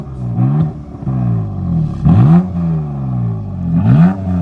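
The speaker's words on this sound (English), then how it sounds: "All right, Alan, give it some revs." A BMW M4 engine in sport mode revs three times in slow succession, each rev a loud rising snarl that falls back to a rumbling idle, close up with no talking.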